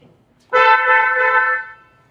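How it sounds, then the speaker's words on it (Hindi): A single steady car horn blast sounds after a repair of the steering wheel clock spring, loud and close, lasting just over a second with no talk. "अब एक बार हॉर्न बजा के देखते हैं सर इसका।"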